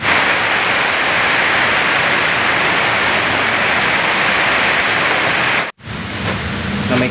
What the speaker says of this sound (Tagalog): Lakas-lakas ng hangin.